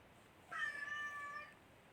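A domestic cat gives a single clear, drawn-out meow lasting about a second, close and alone against a quiet background.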